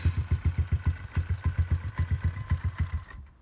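ATV quad engine idling roughly with a loud, steady low thumping pulse during carburetor adjustment, then sputtering and stalling into near silence at the end.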